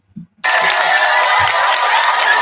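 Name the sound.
podcast audience applause and cheering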